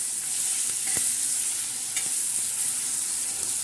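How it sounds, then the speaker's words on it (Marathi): Tomato, green chili and garlic chutney being stirred in a pan, a steady soft sizzle with a few sharp scraping clicks of the spoon against the pan, close and alone without talk. "आता आपण छान असा हलवून घ्यायचा."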